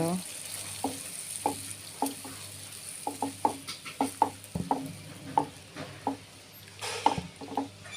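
Fig curry with coconut milk bubbling in a pan while a spatula stirs it, with a steady low simmering hiss and many close, sharp knocks and scrapes of the utensil against the pan.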